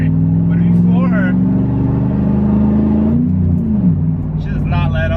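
A truck engine held at full throttle drones loud and steady nearby, its pitch shifting slightly as it pulls, while someone talks over it.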